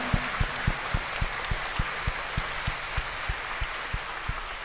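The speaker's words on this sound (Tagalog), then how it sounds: "Malakas sa palakpak para sa Panginoon." A congregation applauds during Mass on the feast of Mary, Mother of God: steady, broad clapping with a rhythmic low thump at regular intervals underneath, holding fairly even throughout.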